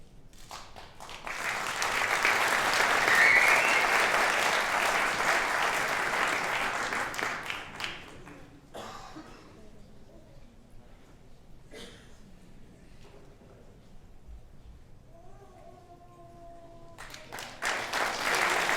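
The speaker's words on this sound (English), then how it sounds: "Can we have a big round of applause for all our graduates?" Big burst of audience applause at a university engineering graduate commencement, loud and sustained for several seconds before tapering off into scattered claps, then a brief return of clapping at the end.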